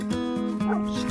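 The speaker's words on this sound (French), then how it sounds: "il y a eu un chien qui était derrière que j'avais pas vraiment calculé" A dog behind the person yips and whimpers in short high-pitched bursts, close and fairly loud, several calls in quick succession.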